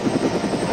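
A military Marine helicopter flies with steady rhythmic rotor thumping, loud and continuous throughout the short stretch.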